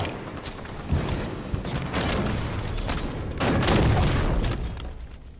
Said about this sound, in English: Rockets in red base.